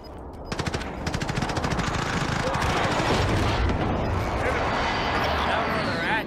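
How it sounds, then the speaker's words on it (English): Precision airstrike in a first-person shooter video game, rapid loud bursts of gunfire-like impacts rolling into a sustained dense barrage of explosions, with a voice speaking over it. "Be advised, friendly precision airstrike inbound."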